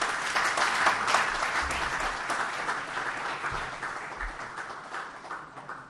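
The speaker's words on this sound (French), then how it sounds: "Sous vos applaudissements." Audience applause at a pan-African excellence awards ceremony, a steady dense clapping from a large crowd that holds throughout at moderate loudness and slowly tapers, with a faint voice underneath.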